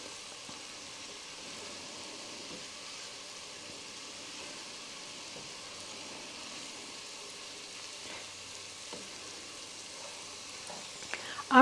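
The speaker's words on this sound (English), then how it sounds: "these onions sauteing" Onions sautéing in a pan for cauliflower soup, a faint, even hiss of sizzling held low and steady throughout, with a few light clicks near the end and no talk.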